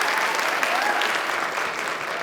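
An audience at a Korean speech contest in Toronto applauds in a steady, even roar of clapping, moderately loud and sustained throughout without a break.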